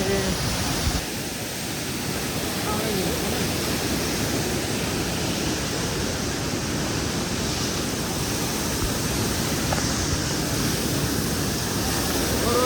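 Steady roar of a waterfall fills the air, broad and constant, rushing on without a break.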